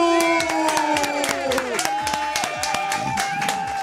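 A studio audience at a live show claps to welcome a guest, steady applause filling the clip under a loud presenter's voice and music.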